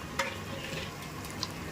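Chicken pepper masala sizzles softly in a pan while being stirred and sautéed, with a couple of faint utensil taps over the steady frying hiss.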